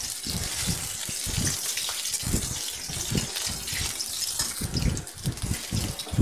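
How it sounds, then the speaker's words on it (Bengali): Potatoes fry in hot mustard oil in a pan, giving a continuous close sizzle and crackle with uneven bursts and no talking. "আলুগুলো ভালো করে ভেজে নেব সর্ষের তেলে।"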